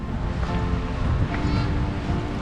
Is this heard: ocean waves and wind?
yes